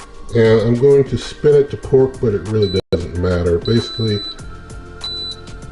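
Someone talks close up while short electronic beeps from a pressure cooker air fryer's control panel sound at intervals, with a low hum afterward.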